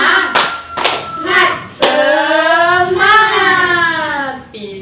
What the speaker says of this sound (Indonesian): Tepuk semangat semuanya, tepuk semangat.